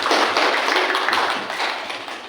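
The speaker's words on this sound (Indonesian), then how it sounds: "tepuk tangan dulu buat temannya" A classroom of students claps together for a classmate, a dense, steady burst of many hands lasting throughout and fading slightly at the end.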